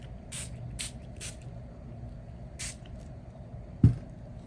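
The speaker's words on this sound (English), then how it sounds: "I'm spraying just around the paper, kind of leave the middle dry." Water is spritzed in short bursts from a spray bottle around the edges of burnt sienna semi-sized Xuan paper, several soft hissing puffs close by over a quiet background, with one small knock near the end.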